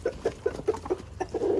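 Chickens on a small farm cluck in a quick run of short, evenly spaced notes, close and clear, ending in a longer drawn-out call as they gather over food scraps.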